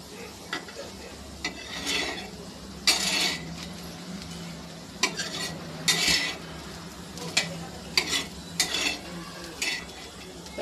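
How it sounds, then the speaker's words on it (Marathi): Bitter gourd slices being flipped and fried in a pan, with a steady sizzle under repeated metal scrapes and clinks of a spatula against the pan. "हे बघा कारल्याची पलटी करून घेणार आहे."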